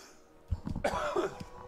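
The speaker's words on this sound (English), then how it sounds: "It's alright, I'm not dying, it's just like a dry cough." A dry cough from a man streaming a game, a few short harsh bursts close to the microphone with a throat-clearing quality, heard alone without talk.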